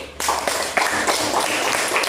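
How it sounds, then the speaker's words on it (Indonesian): A classroom of pupils applauds classmates who came to the front, giving a continuous, moderately loud patter of many hands clapping for about two seconds, close and slightly muffled. "Beri tepuk tangan dulu."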